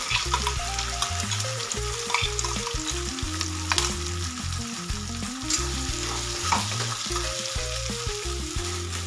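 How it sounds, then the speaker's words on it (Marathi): Ground masala sautés in hot oil for a cauliflower curry, giving a steady close sizzle with frequent scraping stirs, while background music plays throughout. "तेलामध्ये तेल सुटेपर्यंत आपल्याला याला परतून घ्यायचं।"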